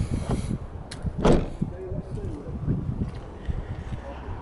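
A single solid thump of the rear cargo hatch of a 2014 Dodge Durango SXT closing, preceded by a brief creak, with low rustling afterward.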